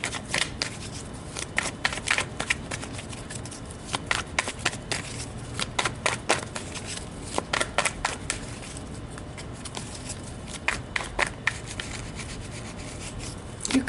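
Tarot cards are shuffled by hand, a continuous papery riffling with repeated sharp flicks and slaps, close and fairly quiet, with no talking.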